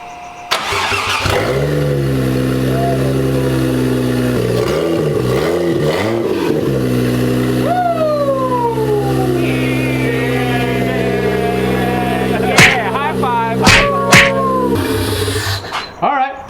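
A 1JZ-swapped Nissan S13 cranks and fires up, then settles into a loud, close idle broken by several rising and falling revs and a few sharp blips near the end, with faint voices in the background.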